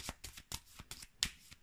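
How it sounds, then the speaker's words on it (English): Cards from the Forbidden Island board game being shuffled by hand, a soft close series of quick riffling flicks and taps at an irregular rhythm, quiet with no talking. "Then we need to shuffle everything up."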